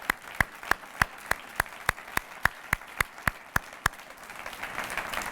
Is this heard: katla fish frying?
no